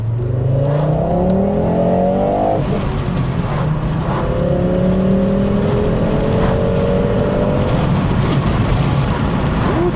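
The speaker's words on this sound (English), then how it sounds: "You probably can hear all the noises and rattles that this car has." A Volvo 850 GLT accelerating hard in first gear, its engine note rising loudly in pitch before a gear change, then climbing again, with rattles and road noise beneath the cabin drone.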